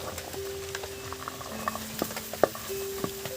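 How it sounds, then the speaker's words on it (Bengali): Chopped onion and carrot fry in a pan for a Maggi noodle dish, with a steady soft sizzle and scattered sharp crackles and stirring clicks close by. "পেঁয়াজ কিন্তু আমি বেশি ভাজবো না গাজর এটাও দিয়ে দিচ্ছি"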